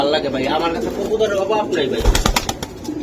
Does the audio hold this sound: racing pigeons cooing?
yes